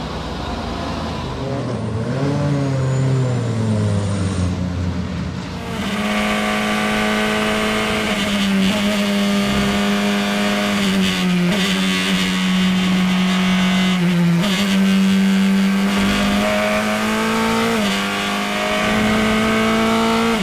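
Praga Cup race car engine revving hard out on a track, a loud sustained tone climbing and dipping through the gears for about twenty seconds, with no voices over it.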